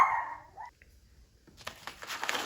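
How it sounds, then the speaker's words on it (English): A small dog gives a brief bark or yelp at the start, then fades into quiet, followed by a hissing noise; fairly faint and close by. "I had to turn the camera off because Pippa, who has a very, very loud bark, Pippa, started yapping at something outside."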